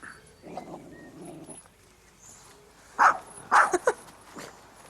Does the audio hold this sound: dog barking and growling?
yes